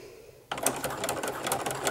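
A Baby Lock sewing machine fitted with a ruffling foot, set to a long stitch, starts abruptly after a short quiet moment and then runs in a steady, rapid, close mechanical clatter. No one talks over it.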